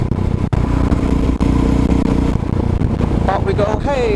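Motorcycle being ridden on a road ride around Dunstable, a loud continuous engine drone with wind rumble close to the rider, plus brief clatter near the end.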